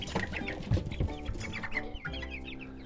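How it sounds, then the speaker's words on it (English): Young chickens, raised from baby chicks, give several soft, close clucks and murmurs in uneven bursts with no talking. "This is where we've raised the chickens since they were little baby chicks."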